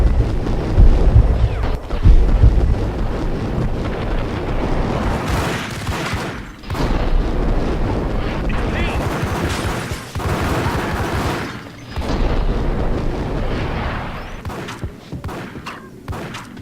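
A film shootout erupts into rolling bursts of loud gunfire and booming blasts, dense and chaotic, with a few short lulls between volleys over about seventeen seconds.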